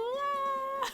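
Meowth's cry from the Pokémon LeafGreen video game: a single synthesized, meow-like call lasting about a second, steady and tonal with a short bright flourish at the end, heard alone.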